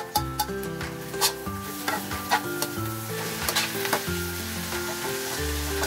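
Green and red capsicum sizzle loudly in a pan of egg fried rice, the steady fry punctuated by rhythmic scraping and tossing strokes of a spatula, close and without talk.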